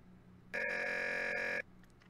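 A telephone rings in a video game, one continuous electronic ring lasting about a second, loud and clear, against quiet background hum.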